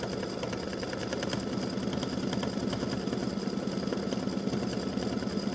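An embroidery machine stitches a butterflies and hibiscus edge-to-edge design with a rapid, even mechanical chatter of needle strokes, a constant rhythmic whir held close up.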